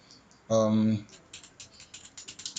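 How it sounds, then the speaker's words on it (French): Typing on a computer keyboard: a brief spoken sound first, then a run of light, quick, close key clicks in an uneven patter that continues to the end. "je tape ici encore de nouveau"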